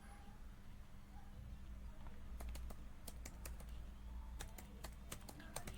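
Keys tapped on a computer keyboard while entering a new folder name inside the XAMPP htdocs directory, a quick burst of clicks then a second run of keystrokes, close and fairly soft over a steady low hum.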